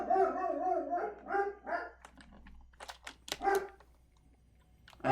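Creature noises from a plasma spitter in the game Satisfactory: a run of short, sharp barking calls and clicks after a stretch of lower growling tones, fairly close and loud, with no talking.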